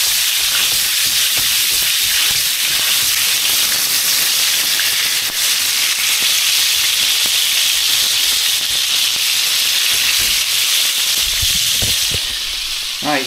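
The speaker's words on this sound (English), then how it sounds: "listen to the sizzle of this cooking." Bacon frying in a pan while cooking spam in blankets, a steady, loud broadband sizzle and hiss that runs unbroken from start to finish, close up, with no talking.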